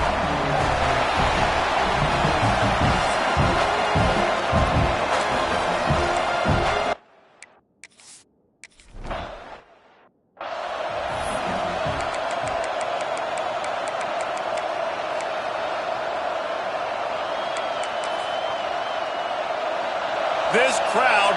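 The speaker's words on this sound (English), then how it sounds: "This crowd bringing an ear-splitting welcome to their visitors" Roaring home crowd at Jordan-Hare Stadium for an Auburn Tigers college football game against USC, a loud, dense wall of cheering that drops away briefly midway, then swells back and holds steady.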